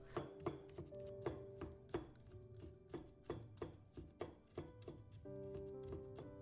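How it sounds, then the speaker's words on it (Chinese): Knife rapidly slicing carrot into thin shreds on a cutting board, crisp rhythmic chops at a brisk uneven pace, close and clear with no talking. "片切好了之后再改刀切成丝，胡萝卜丝可以切细一点"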